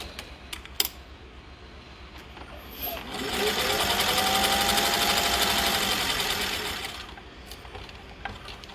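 Sewing machine stitching Velcro onto a holster pocket panel, a fast steady mechanical run of about four seconds that starts and stops abruptly, loud and close, framed by quiet room noise and small clicks.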